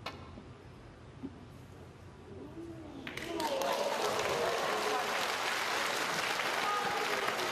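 Snooker crowd breaking into applause after Ronnie O'Sullivan's flamboyant shot, a quiet hall swelling at about three seconds into steady, dense clapping that holds to the end.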